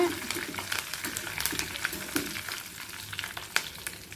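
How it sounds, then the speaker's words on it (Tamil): Curry leaves spluttering in hot oil while tempering a rose-petal chutney: a continuous close sizzle dotted with sharp little crackles and pops. "கறிவேப்பிலை பொறிஞ்சிருச்சிங்க"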